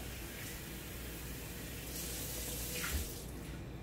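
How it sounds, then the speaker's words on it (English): Steady running water pouring from a tap into a bowl, a soft continuous hiss at low level throughout. "what we're going to do now is fill up this bowl with some water"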